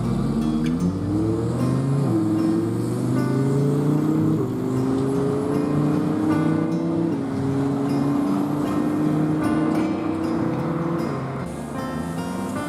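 A car on a street near downtown Kitchener-Waterloo hums steadily and fairly loudly, its engine note climbing and resetting through several gear changes with no break in the sound.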